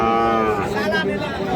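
Cattle moo loudly and repeatedly at a twice-weekly livestock market in Ghoraghat, Dinajpur, where Sahiwal bull calves are traded, with several overlapping calls close by over a busy crowd murmur.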